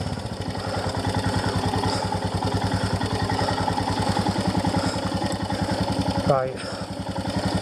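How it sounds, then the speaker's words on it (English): A Royal Enfield Himalayan motorcycle engine running at a steady idle, a close, loud rhythmic single-cylinder thump throughout, with a brief rising sweep near the end; someone speaks a word over it. "Engine start."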